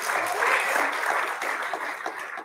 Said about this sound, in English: I think that deserves a wonderful applause for this woman of God.